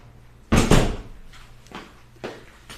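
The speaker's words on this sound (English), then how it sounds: "I need to shut my door." A door is pushed shut with one solid thunk, followed by two softer knocks or rattles as it settles.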